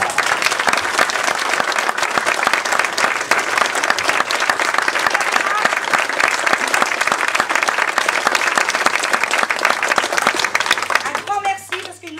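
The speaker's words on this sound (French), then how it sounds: "je voudrais que vous applaudissiez Claudine." An audience at a French live show claps warmly for Claudine, with full, sustained applause that holds steady before tapering near the end as a voice begins to speak.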